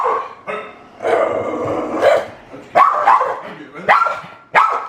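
A pet dog at home barks and yips in short loud bursts, mixed with a whimper, while a person talks to it excitedly before its dinner.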